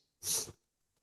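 A single sharp sneeze bursts out up close, a brief hissing explosion of breath followed by silence.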